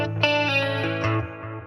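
A distorted electric guitar chord rings through a Boss Katana MKII EX amp with a dark plate-style reverb, sustaining and decaying with a soft, echoing tail, and a second strum lands partway through.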